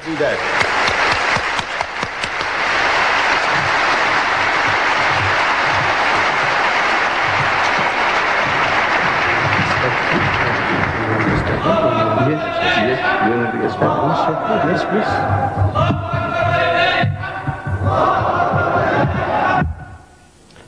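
An audience at an Islamic lecture applauds and cheers a guest speaker. The loud, dense noise lasts about eleven seconds, then gives way to someone speaking.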